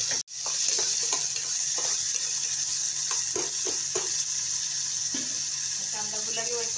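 Onion and curry leaves sizzle steadily in hot oil in a pan for vajari masala, with a broadband frying hiss running throughout and brief stirring scrapes and clinks scattered over it.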